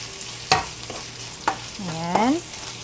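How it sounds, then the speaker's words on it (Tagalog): Small pieces of already cooked bacon are stirred in a pan over a low sizzle, with a few sharp utensil clinks and a short squeaky scrape. "maglalagay ako ng konting bacon. Ito yung bacon na niluto ko kanina."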